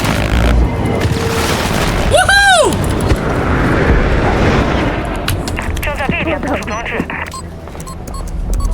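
A device detonating in Call of Duty (COD 23) gives a loud boom with a whooshing, sweeping tail, then crackling debris and gunfire-like bursts under continuous game noise and voices.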